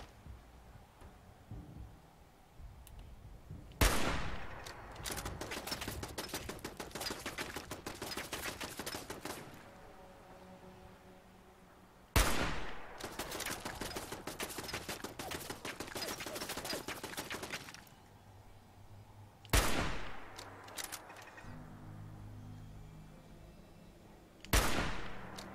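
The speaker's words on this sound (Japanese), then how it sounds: "ハンティングライフルで削れねえかな" Gunfire in Fallout 4, with a hunting rifle in play, arrives in four loud bursts, each opening with a sharp crack followed by several seconds of rapid, sustained firing before a brief lull.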